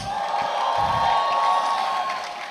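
Crowd at a tech fair cheering and whooping in a steady, loud wash of voices for a couple of seconds, with a sustained tone running underneath.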